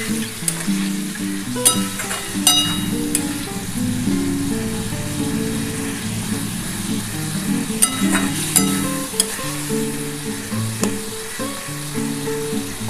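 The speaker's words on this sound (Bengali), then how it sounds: "এবার ভালো করে একটু মশলাটা কষাতে হবে।" Spice paste with tomato and spice water sautéing in a pan for a soybean and potato curry, a steady close sizzle with intermittent scraping stirs and clinks, no voices.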